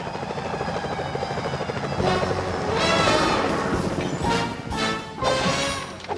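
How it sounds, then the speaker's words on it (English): Security helicopters in the video game Sly Cooper: Thieves in Time, a dense, continuous rotor roar with crashing impacts layered over it, loud and sustained throughout without talk. "Those security choppers are bad too."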